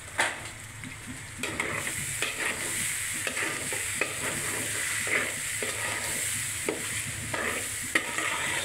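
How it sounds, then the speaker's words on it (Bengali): A spatula stirs spiced curry with dal and ground coriander in a large pot, scraping steadily in repeated strokes over a continuous close sizzle of frying, with no talking. "ভালো করে নাড়াচাড়া দিয়ে নিতেছে"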